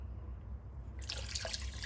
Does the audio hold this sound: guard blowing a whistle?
no